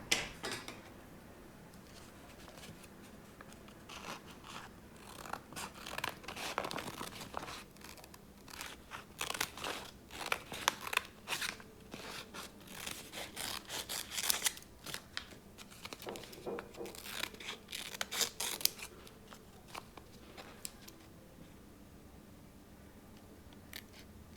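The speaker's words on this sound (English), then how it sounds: "now using the scissors cut the shape." Quiet, repeated snips and crisp crunching of scissors cutting through paper, coming in irregular bursts with short pauses, close by and with no talking.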